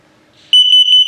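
An RV's combined LP and carbon monoxide detector, in a 2023 Sunset Trail Super Lite 253RB travel trailer, sounds its test alarm: after a quiet moment, a loud, steady high-pitched electronic tone starts abruptly and holds with slight pulsing.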